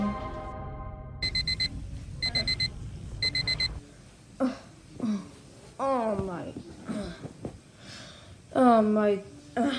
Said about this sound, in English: I hate alarm clocks so much.